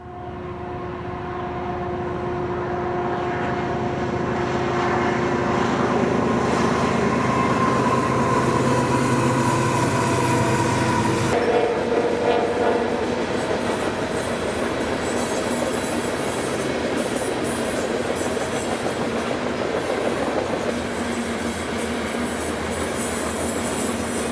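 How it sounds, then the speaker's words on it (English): CN freight train 3157 hauls a long line of covered sand hoppers past at close range. Its loud, continuous rumble of wheels and cars carries on throughout, with a faint squeal, and its tone shifts about halfway through. "Here's CN 3157 with a long line of sandhoppers."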